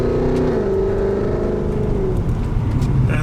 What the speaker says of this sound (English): I love that V8 sound. It's my favourite sound